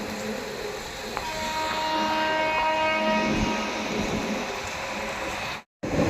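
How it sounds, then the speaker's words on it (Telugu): A simulated express train in Indian Train Simulator rumbles along steadily with a drawn-out horn tone early on, the rolling noise continuing until a sudden brief cut near the end. "ట్రైన్ అయితే మూవ్ అయిపోయింది."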